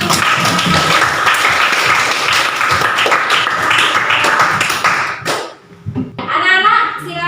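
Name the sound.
class applause, clapping hands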